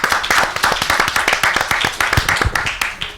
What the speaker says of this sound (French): mais des applaudissements quand même pour Naomi